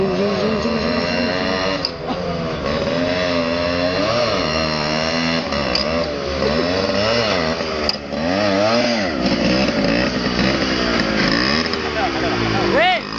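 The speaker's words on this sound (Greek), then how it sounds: "Το μηχανάκι χάλια το έκανε τώρα." A motorbike engine revs loudly and continuously, pitch rising and falling as the throttle changes, close up with a steady buzzing drone throughout.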